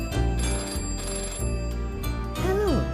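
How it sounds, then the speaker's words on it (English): Telephones ringing across a village in a 1997 Postman Pat children's animation, a steady electronic ring under background music with a rising tone near the end. "The phones were ringing again, all over Greendale."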